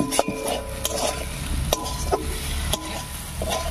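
A spatula stirs bitter gourd curry frying in a wok with raw mustard oil. A steady sizzle runs under repeated sharp scrapes and taps at an uneven rhythm, close and moderately loud.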